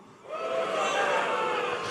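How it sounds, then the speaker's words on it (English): An audience at a Mafia: The Old Country game developer panel rises into a loud, sustained crowd roar of booing after a brief quieter moment, the massed voices filling the room steadily to the end. "And when you hear something you don't like the game's delayed, you boo."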